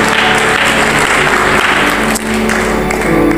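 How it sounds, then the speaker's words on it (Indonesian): A church congregation claps in praise, a dense, loud and continuous wave of applause filling the hall that barely dips before carrying on strongly. "Beri tepuk tangan untuk Tuhan."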